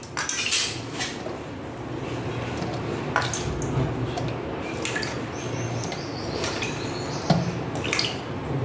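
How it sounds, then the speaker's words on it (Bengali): Pieces of rui fish washed in water in a kitchen: steady splashing and sloshing with clinks of a metal bowl or utensil and a few sharper knocks, close and continuous. "আমি মাছটা ধুয়ে নিই"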